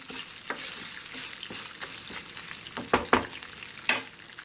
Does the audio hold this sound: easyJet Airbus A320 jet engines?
no